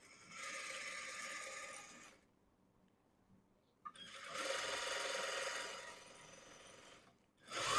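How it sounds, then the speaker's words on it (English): A sewing machine stitches a skirt seam and back tacks it: a loud whirring run of about two seconds, a near-silent pause, then a longer run, with a final burst starting at the end. "So you make a few stitches, back tack, and then you come forward."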